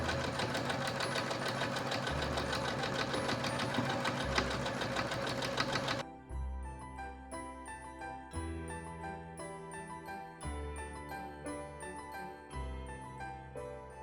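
Sewing machine stitching a patchwork quilt, a fast mechanical whirring rattle running steadily for several seconds, then background music with no clear stitching.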